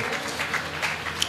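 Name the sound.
audience applause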